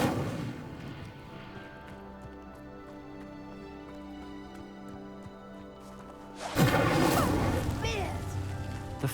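Incendio fire spell striking a pyre in Hogwarts Legacy: a sudden loud whooshing burst of flame erupts after a long, steady humming stretch, then crackles on at full strength.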